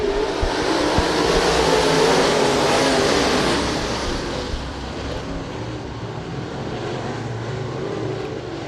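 A pack of dirt track race cars roars off at the start of a heat race at Bubba Raceway Park, a loud, dense wall of engine noise that swells over the first few seconds, then eases slightly as the field pulls away.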